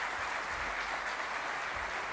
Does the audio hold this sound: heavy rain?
no